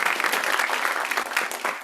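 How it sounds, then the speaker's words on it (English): An audience at a school awards ceremony claps steadily and densely for about two seconds, a bright continuous patter that stays level throughout. "So can we get a clap for all of the things that we have done"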